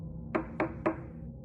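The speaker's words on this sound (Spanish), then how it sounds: "golpeando en la puerta" Three firm knocks on a door, evenly spaced and fairly close, over a low steady background hum.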